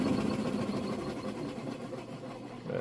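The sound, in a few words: Maytag direct drive washer spinning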